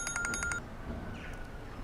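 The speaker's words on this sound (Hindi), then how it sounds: "देखिए, मीरान का फोन है या दादी जान का है?" A phone rings at a family home in brief repeated electronic chirps, a moderately loud pulsing tone that stops after about half a second, followed by quiet room noise.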